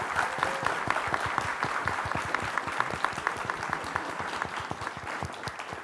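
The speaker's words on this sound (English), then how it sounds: "the first round of applause for the American Sign Language assistants here today" Audience applause at a comics convention panel, thanking the American Sign Language assistants, with steady, dense clapping from a roomful of people sustained evenly for about six seconds.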